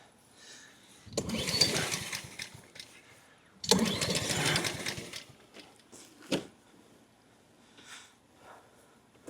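A Honda HRN216 lawn mower engine is pulled over twice in long rasping cranking bursts that fail to catch, followed by quieter clicks and fiddling noises close by.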